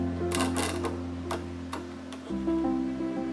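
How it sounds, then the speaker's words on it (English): An electric needle destroyer burns off a used syringe needle tip, a steady mechanical hum with a few sharp crackling bursts, close and alone. "the tip of the needle to be destroyed by the needle destroyer"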